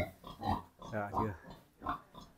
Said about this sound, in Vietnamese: có hai con lợn to lắm các bạn nhé